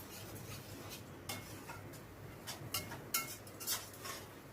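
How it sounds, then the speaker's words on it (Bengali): A spoon scrapes and clinks against a pan while spice paste is fried down with small additions of chicken stock, giving irregular close metallic taps and stirring over a low steady background. "চিকেন স্টকটা অল্প অল্প করে দিয়ে মশলাটাকে ভালো করে কষিয়ে নেব"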